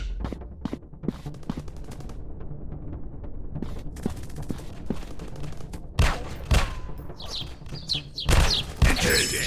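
Gunfire from a first-person counter-terrorist shooter game, with scattered single shots and quick bursts, louder sharp reports near the end, over a busy game background with chirping.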